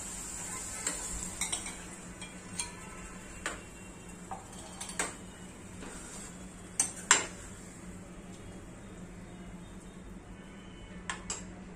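Boiled chickpeas going into a pan of vattana gravy, with scattered clinks and soft taps of a utensil against the pan over a steady low kitchen hum and a faint high whine.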